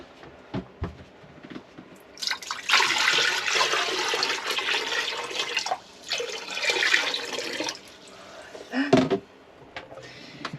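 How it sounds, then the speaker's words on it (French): Fresh water is flushed through a boat cabin toilet, heard as two long, loud gushing bursts with a short break between them, followed by a few knocks and clunks from the fittings nearby. "Là, je les rince à l'eau douce."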